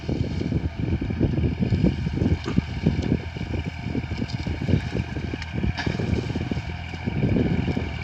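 A Kubota L4018 tractor plows a sugarcane field in second high gear at normal throttle, its diesel engine chugging in a steady, loud rhythmic pulse with a wind-buffeted edge and no talk.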